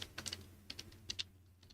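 A short run of computer keyboard keystrokes sounds at close range in a few quick clusters of clicks, over a low background hum with no talking.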